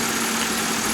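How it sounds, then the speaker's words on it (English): A 2008 Pontiac Grand Prix with the Series 3 3800 V6 idles steadily, a close, even engine hum with a low fundamental drone and no talk over it. "Under the hood is the 3800 V6."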